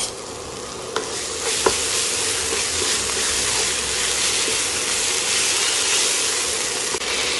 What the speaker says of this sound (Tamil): சீனி வெங்காயத்தோடு சேர்ந்து அந்த கேரமலைஸ் ஆகணும்.